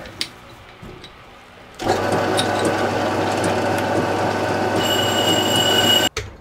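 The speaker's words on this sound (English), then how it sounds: "So this is pretty much the final vacuum system." A home distiller's vacuum system switches on after a quiet moment and runs as a loud, steady mechanical hum with a droning motor tone and faint whine, cutting off abruptly near the end.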